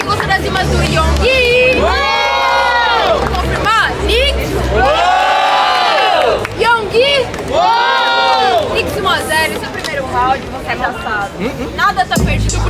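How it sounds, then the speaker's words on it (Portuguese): A large crowd at an underground rap battle roars and cheers in repeated surging waves, with shouting and babble in between, loud and close. "Eu quero muito barulho pra quem gostou das rimas da Nico"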